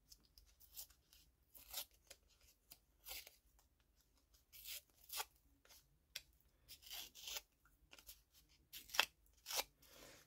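Paper torn by hand for a page collage, heard as a string of short ripping bursts at an irregular pace, fairly close, quiet and with no one talking.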